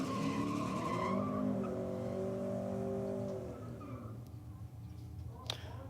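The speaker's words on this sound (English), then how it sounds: "ripping out a big burnout in his Commodore" A Holden Commodore does a burnout at a race night, tyres skidding and the engine roaring loudly in a sustained smear of sound for about four seconds before it fades into a quieter crowd background.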